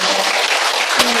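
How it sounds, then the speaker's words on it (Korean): Audience clapping in thanks at a fashion show event, a steady dense wash of applause filling the room throughout with a brief louder swell near the end. "김옥규 대표님께 감사의 박수"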